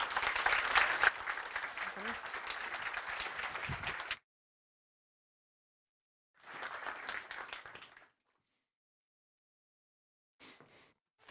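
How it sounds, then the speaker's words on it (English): Audience applause welcoming speakers on stage at the NATO Youth Summit opening; a dense burst of clapping for about four seconds, then silence, a shorter swell of applause, and a final brief spatter, with no one talking. "Let's give them a warm applause."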